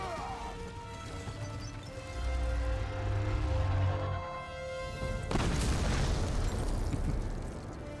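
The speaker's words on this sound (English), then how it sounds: "that's going to make him explode from the inside" Enemy bursting apart from within in God of War on PS4, a deep booming explosion with a crashing burst at the end over continuous game music and low rumble.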